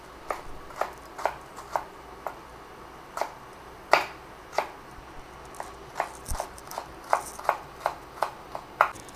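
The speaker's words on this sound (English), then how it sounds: "I'm cutting them in small dices" A knife dices mushrooms on a cutting board for a cream soup, giving a steady run of about twenty crisp, close chopping taps at an irregular pace over faint background hum.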